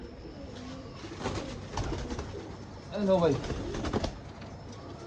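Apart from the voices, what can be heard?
pigeons cooing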